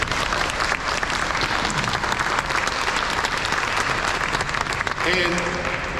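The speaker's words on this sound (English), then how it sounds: "I think everybody should give a round of applause for all those people who wear our country's uniform" A crowd at an airshow opening ceremony gives a round of applause for service members in uniform, dense continuous clapping close by with a few voices mixed in, holding loud and steady to the end.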